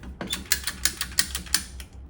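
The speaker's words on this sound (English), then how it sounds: "So we're gonna use these loppers" Loppers snipping through a plastic sink drain pipe under a garage sink give a series of sharp, crisp snapping clicks in an uneven rhythm, close and fairly loud, with no talking.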